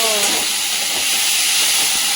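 Thin fish frying in a pan for a light summer curry gives off a loud, steady sizzling hiss throughout, close by, with a faint brief voice at the start.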